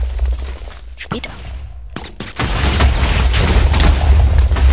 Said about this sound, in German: Man nimmt Bogen, steckt Gegner damit und sie explodiert.